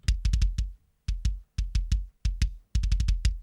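A metal kick drum from the Empty Power Drum Kit 2 plugin thumps alone in tight rapid clusters of punchy, clicky hits, four or five per burst with short gaps between groups, close and dry.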